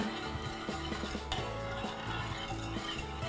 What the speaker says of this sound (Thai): ใส่ตัว ผงวุ้นแล้วก็น้ำตาลทรายลงไปเลยค่ะ คนให้ละลายเข้ากัน